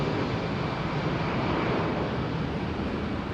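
An Airbus A380 departs runway 27R at London Heathrow, its engines producing a loud, continuous broadband roar and rumble heard close up with wind noise and no voices.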